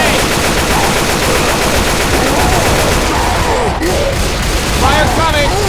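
Rapid automatic gunfire in Left 4 Dead 2 during a Tank encounter, a loud continuous burst of shots that carries over the whole stretch, with shouting voices mixed in underneath.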